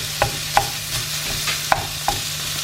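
Beef mince from the butcher cooking in a pan, a soft sizzle under a few sharp scrapes and taps from stirring, close and moderately loud.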